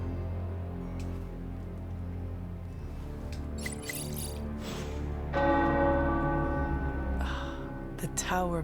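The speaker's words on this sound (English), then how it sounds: "The tower bells are ringing." Tower bells ring in the video game Marvel's Midnight Suns, overlapping resonant strikes sounding over a low ambient music bed, with a brief voice in between.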